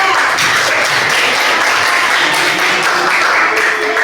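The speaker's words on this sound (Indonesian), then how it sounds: "Tepuk tangan boleh." Children in a classroom clap for a classmate's good score, a loud, close, continuous burst of many small hands that stays full and even from start to finish.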